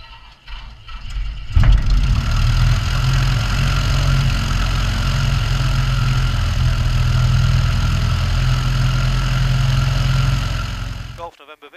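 A light aircraft's piston engine runs steadily at idle during a magneto check before departure from an airfield, a loud continuous drone that begins abruptly after a short quiet lead-in and cuts off near the end.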